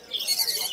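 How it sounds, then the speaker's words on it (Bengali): Green cheek and pineapple conure chicks call at a busy bird market, a brief burst of harsh, hissy squawks that sound fairly close and moderately loud. "এখানে গ্রিন চিকি আছে, পাইনাপেল আছে,"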